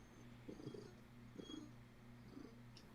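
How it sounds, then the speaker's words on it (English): A cat purrs softly nearby in faint, regular rumbling pulses that repeat about once a second. "I hear a cat"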